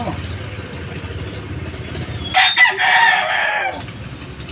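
A rooster crows loudly and close by, one long drawn-out call rising over a low murmur of background noise.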